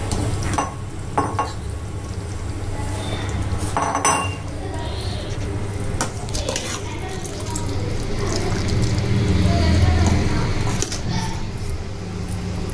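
Serving spoon clinks and scrapes against a pot and dish while chicken and potato korma is dished out in a home kitchen, with a soft sizzle underneath and someone talking over the steady clatter of utensils.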